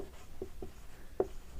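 Writing on a board during a physics lesson: a few short, faint scratching strokes at uneven spacing, with one slightly stronger stroke near the end, against a quiet room.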